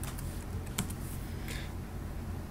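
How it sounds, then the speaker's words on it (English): Quiet keystrokes tapping on a computer keyboard, several light clicks scattered over a steady background hum, with no voices. "now I'm going to type out heart"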